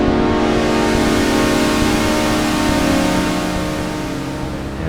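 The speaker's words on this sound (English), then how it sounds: "And that noise, it is a digital noise, I believe, because it loops." Steady, dense hiss-like digital noise from a Fender Rhodes Chroma Polaris analog synthesizer, a sustained loud wash with faint looping tonal bands running through it, fading slightly toward the end.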